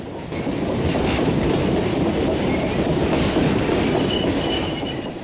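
A freight train hauled by NS locomotives and carrying double-stack containers passes close by in a loud, steady roar of rolling wheels and clacking rails, with faint squealing above.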